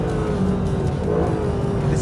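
A 6.2-litre V8 in a Mercedes SLS AMG Black Series revs hard on a race circuit, a loud, sustained engine roar close by with a steady, unbroken drone throughout.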